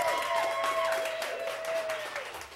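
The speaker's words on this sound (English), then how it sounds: "we're just clapping" Studio audience on a live breakfast television show clapping for a band, a short burst of applause with a sustained musical tone ringing over it, fading toward the end.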